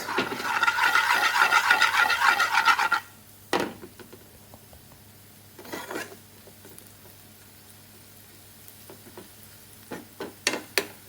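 Ginger and garlic frying in a pan over medium heat give a steady, close sizzle for about three seconds, followed by quieter stretches broken by occasional knocks and scrapes of stirring.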